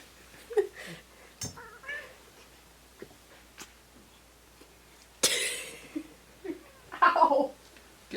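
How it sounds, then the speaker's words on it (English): An indoor cat meows and caterwauls several times, the loudest calls close and insistent near the end, among scattered knocks and handling noises with brief voices. "we got a cat here bothering us."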